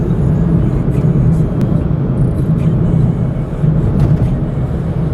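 A Maruti Suzuki Celerio ZXI automatic accelerates hard in a lower gear, its engine giving a steady, droning rumble with road and wind noise heard from inside the cabin, and no talk.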